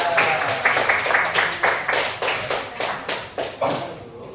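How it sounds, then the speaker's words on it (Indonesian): A classroom of students claps for a group in a series of rhythmic, evenly spaced claps, about nine in a row, loud and close, fading near the end. "Tepuk tangan buat kelompok 3."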